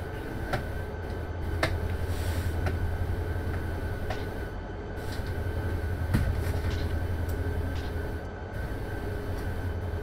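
A freight train rolls along in the Run8 train simulator, a steady low rumble of wheels and engine with faint periodic clicks and clanks, continuous and fairly close throughout.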